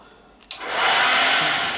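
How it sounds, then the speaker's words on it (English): A blow dryer switches on with a sharp click and rises into a loud, steady whooshing roar of blowing air, close to the microphone, with no talking. "My blow dryer plugged in for a second test."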